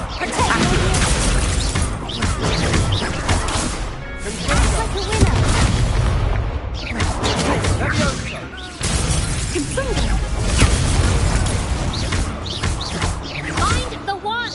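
Incendio fire spell cast in Hogwarts Legacy, loud crackling bursts and whooshing blasts layered with shattering crashes and game effects, continuous and dense throughout, with spoken voices over the action.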